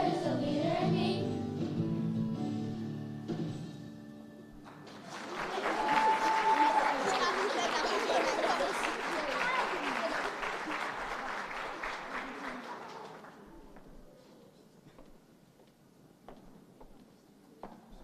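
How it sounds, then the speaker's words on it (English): An audience at a Princeton school board meeting applauds an elementary school performance. A burst of clapping rises after the end of a song, holds for several seconds, then fades to scattered claps. "Let's give Springdale Elementary School more round of applause."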